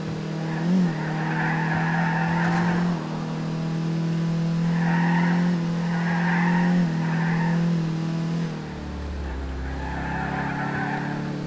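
Infiniti G37 Coupe (2008, Carbon Edition) in GTA IV on a race track map, tires skidding and squealing in sustained bursts over a steady engine drone, loud and close, with a brief lower roar near the end.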